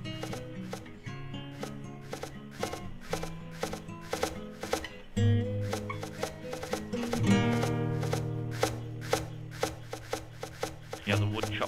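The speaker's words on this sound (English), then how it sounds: "Yeah, the wood chopping going there." Wood being chopped in the video game Towns: a steady, rapid run of crisp percussive chops repeating throughout, over a continuous tonal game soundtrack.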